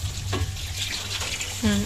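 Water pours into a cooking pot for a merienda, a running, splashing stream heard under people talking nearby.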